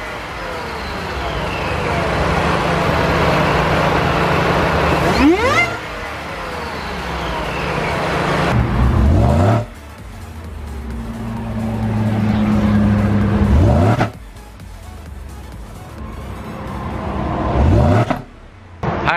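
A Whipple supercharged 2018 Ford F-150 with the 5.0L V8 revs repeatedly, each rising roar climbing in pitch and dropping off sharply into idle, several loud close pulls spaced a few seconds apart.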